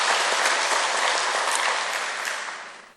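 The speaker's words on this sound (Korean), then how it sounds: "우리 귀한 찬양으로 하나님께 영광 돌려주신 사랑방 육속을 위해서 다시 한번 박수로" A church congregation claps during a Sunday worship service, a thick, even wash of many hands that holds steady, then gradually thins and fades out toward the end.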